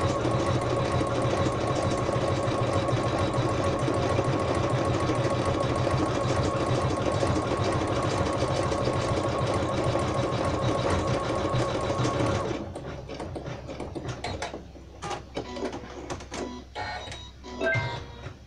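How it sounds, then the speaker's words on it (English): An embroidery machine sews a blanket stitch applique, a steady rapid mechanical whirring and clatter running loud and continuous before it stops partway through, leaving quieter scattered clicks and thumps. "I can press start, and it'll do the applique, the blanket stitch, to hold down that arm"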